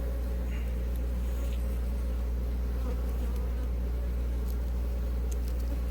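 Honey bees buzzing around an open hive at an apiary among buttercups, a dense continuous drone close to the ear with occasional louder passes near the microphone.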